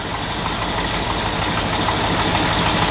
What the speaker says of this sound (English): We got one small exhaust leak. The ticking's actually gotten much more quieter